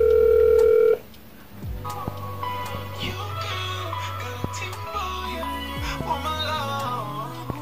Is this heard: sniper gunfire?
no